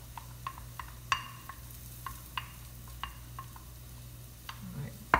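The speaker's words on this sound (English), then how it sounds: "Stir all this together." A utensil clinks and scrapes in a bowl while stirring salad dressing, in short, irregular strokes, quiet and close, over a low steady hum.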